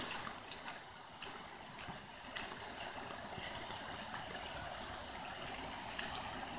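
A river in the Naula area runs as a steady, moderately distant rushing wash of water with soft bubbling and trickling detail throughout, with no voices over it.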